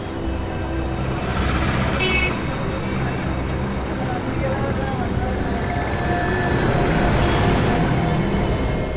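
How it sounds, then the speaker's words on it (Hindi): A motor vehicle draws closer on a road at night, a steady loud engine and tyre rumble building gradually, with wind-like broadband noise throughout. "सर कोई गाड़ी आ रही है।"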